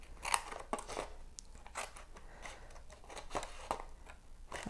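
Scissors trim craft material for a tissue box in a series of short, crisp snips and crunches, close up and fairly quiet, spaced irregularly across the clip.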